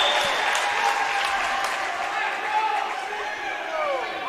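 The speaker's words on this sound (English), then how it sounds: "the fans on both sides, giving that senior a big round of applause" Fans in a gym at a girls' basketball state final applaud an injured senior player, a broad crowd roar mixed with clapping and chatter, steady and loud throughout.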